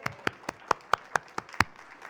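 A small group claps slowly and sparsely at a residents council meeting, about ten distinct hand claps spaced evenly, fairly close and moderately loud, with no talking.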